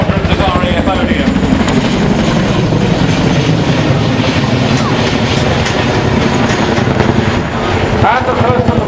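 RAF Chinook twin-rotor helicopter in a flying display at Waddington, a loud, continuous rotor and turbine roar with steady blade thumping, dominating throughout.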